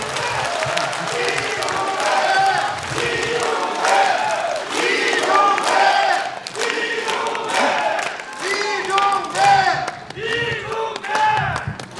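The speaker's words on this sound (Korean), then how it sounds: "큰 박수와 연호를 부탁드리겠습니다" A crowd at a Korean lawmaker's constituency report meeting in Chungju claps while chanting loudly in rhythmic unison, the voices rising and falling in repeated bursts over continuous applause.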